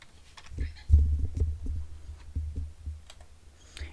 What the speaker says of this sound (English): I'm holding the mic on one hand and typing with the other hand.